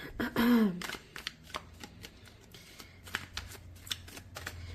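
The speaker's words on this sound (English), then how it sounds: "All right, let's get some tarot cards." Tarot cards are shuffled close up in a quick burst of riffling, followed by a series of soft, irregular card slaps and taps as the deck is handled.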